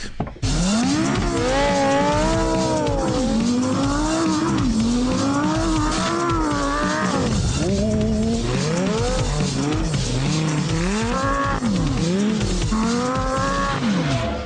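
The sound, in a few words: Lamborghini Gallardo LP560-4 driving on snow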